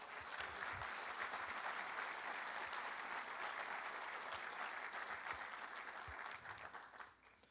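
A church congregation applauds for the Lord Jesus, a sustained, full roomful of clapping that holds steady for several seconds before tapering off at the end.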